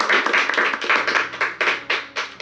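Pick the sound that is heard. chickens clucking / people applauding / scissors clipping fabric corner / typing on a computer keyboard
people applauding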